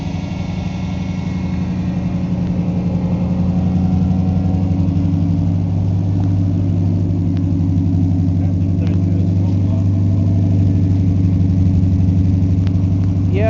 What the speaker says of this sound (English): the engine is running smoother